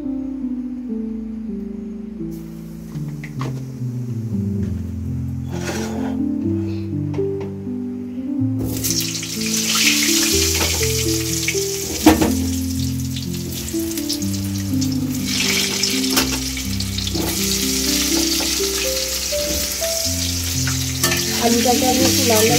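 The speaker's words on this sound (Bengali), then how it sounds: "বন্ধুরা এই আলু ভাজা করব গরম তেলে, আমি একটু নুন হলুদ দিয়ে দিলাম" Potato pieces fry in hot oil with salt and turmeric, a loud, close, continuous sizzle with stirring scrapes that grows busier partway through, over melodic background music.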